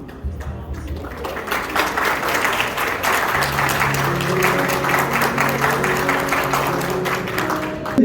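Graduates stand to applaud their parents at an INFOWorld University graduation ceremony, producing sustained hall-wide clapping that builds and holds steady, with faint music underneath.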